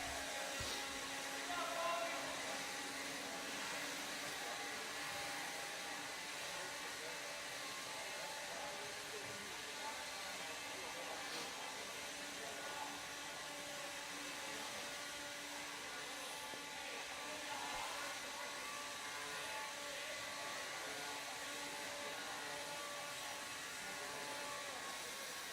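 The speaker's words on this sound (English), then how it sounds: "Marshals, grab your blowers. Start blowing off your areas." Marshals' leaf blowers roar continuously across an indoor RC car raceway, a steady broadband whoosh that stays even and fairly distant for the whole stretch.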